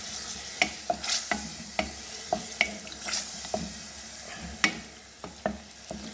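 Beef and chana dal fried with fresh yogurt in a pan, stirred with sharp spoon scrapes and clinks over a steady, soft sizzle; no talking.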